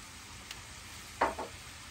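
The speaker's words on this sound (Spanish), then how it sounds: "vamos a agregar un chorrito de vinagre de arroz" Rice vinegar splashes into beef ossobuco (chamberete) sizzling in a pan: a steady, faint frying hiss rises into two short, sharper bursts of spitting in close succession.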